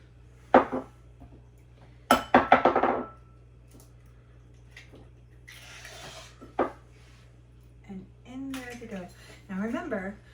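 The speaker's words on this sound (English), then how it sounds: "All right, let's crack the eggs open." Eggs cracked one at a time against a bowl for an Italian meatloaf, giving a few sharp close knocks and cracks followed by quieter shell and rubbing sounds, with a voice talking at the end.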